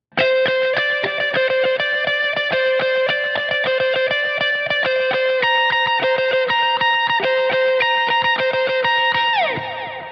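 A distorted electric guitar with overdrive and delay plays a repeating riff of quick picked notes, steady and loud, with echoing repeats ringing out before it stops.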